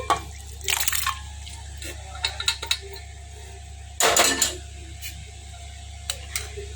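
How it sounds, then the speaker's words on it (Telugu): Boiled kidney beans tipped into a pan of cooked masala with their cooking water: a few short liquid splashes and drips over a steady low hum, one louder pour in the middle, near and without talk. "ఇప్పుడు మనం ఉడకబెట్టుకున్న రాజ్మా ఉంది కదా, ఈ నీళ్ళతో సహా దీనిలో వేసేసేయాలి."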